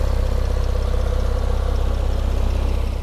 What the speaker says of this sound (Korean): 스포츠백이라서 정차 중인데도 확 소리가 달라집니다